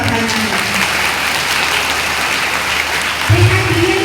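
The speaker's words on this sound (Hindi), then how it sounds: "उनको हम फिर से जोरदार तालियों से बधाई दें" Dense, sustained applause from an audience at a school investiture ceremony, a steady wash of clapping that continues throughout, with a brief swell near the end.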